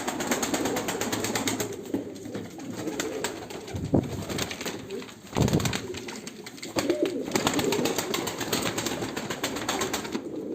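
Many pigeons, double-crested and tumbler play breeds, coo continuously nearby with occasional bursts of wing flapping and fluttering during a bird auction, without talk.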